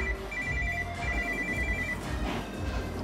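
A telephone rings with repeated electronic trilling tones in short bursts, fairly quiet against a low rumbling background, with no speech.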